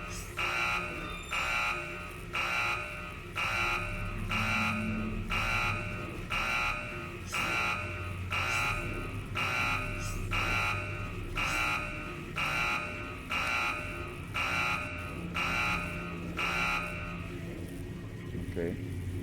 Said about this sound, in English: The blaring alarm doesn't help.